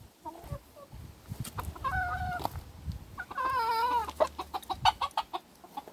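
Farmyard hens cluck near a large manure heap, with sharp repeated clucks and a few drawn-out rising calls up close, scattered irregularly over other faint barnyard noise.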